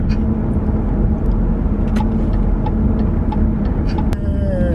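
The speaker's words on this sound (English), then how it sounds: "Traffic." Road traffic passing on a street, heard as a steady, continuous engine rumble and tire roar close by, with no clear gaps between vehicles.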